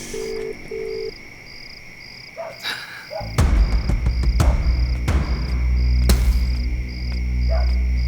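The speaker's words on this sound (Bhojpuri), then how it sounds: "घंटी जाता फोनवा ना उठाओ तुमन" A phone call rings out unanswered, with two short ringback tones early on followed by a rising hum and beeping electronic tones. Several sharp clicks and thuds cut through, all fairly loud and close.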